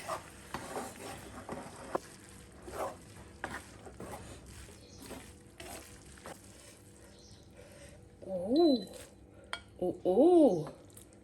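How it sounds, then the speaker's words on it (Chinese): Braised noodles being stirred in a pot with the heat turned off, soft scraping and clinking of utensil on pot under a faint sizzle, with a few tonal voice-like sounds near the end. "熟了，把它关火，把它搅起来。"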